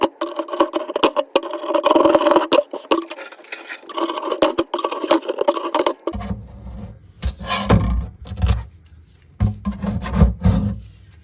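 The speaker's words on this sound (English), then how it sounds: "this drawer liner stuff, whatever it is, so I'm gonna start taking it up" Scraping and rasping as old drawer liner is pulled and rubbed loose from a furniture drawer, in uneven bursts with short pauses, close up.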